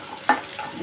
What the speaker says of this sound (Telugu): నూనె వేసి ధనియాలు వేసుకోవాలి.